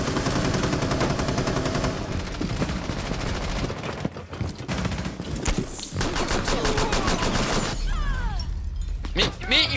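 Gunfire in Rainbow Six Siege, with repeated rapid shots and bursts running through most of the stretch, loud and close, while a player talks over the shooting.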